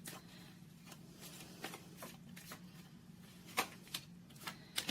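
Tarot cards shuffled by hand, a steady papery riffle of soft slaps and flutters with a few sharper snaps near the end, close and moderately quiet over a faint low hum.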